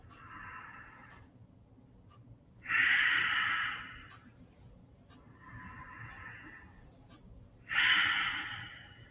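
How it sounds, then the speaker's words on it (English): Slow, deep breaths drawn in during a yoga-style breathing exercise as the arms rise overhead, two long airy inhales each swelling then fading, close and quiet, with no talk over them. "Now take a deep breath, go up."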